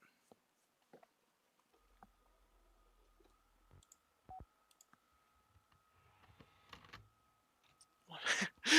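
Computer mouse clicking at a desk, a handful of sharp isolated clicks spaced irregularly in a quiet room, close and faint, with a burst of louder noise at the end.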